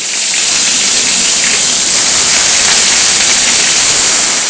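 Chicken pieces rubbed with a little vinegar sizzle as they fry like fish in oil in a pan, a steady, dense hiss that stays loud and even throughout with no voices.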